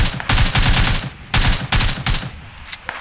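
Loud bursts of automatic gunfire from the video game PUBG Lite, fired in several fast rattling strings separated by brief gaps, close and dominant with a few trailing single shots.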